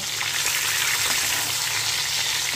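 Fish frying in oil in a pan for a Bengali kalia or doi-style curry, giving a steady, loud, dense sizzle that holds without a break and has no voices over it.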